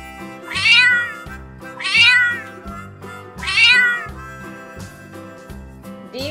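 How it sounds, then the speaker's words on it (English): A cat meows three times in a steady rhythm, each call rising and falling, close and clear. "C for cat."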